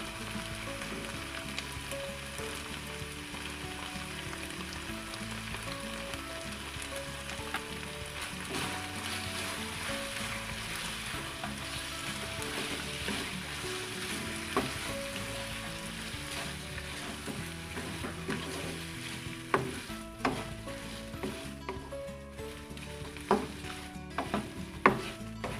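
Steady, close sizzling of margarine frying in a hot pan, a continuous crackling hiss with occasional sharper pops toward the end.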